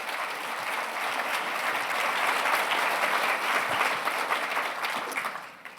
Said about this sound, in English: So a big clap to them.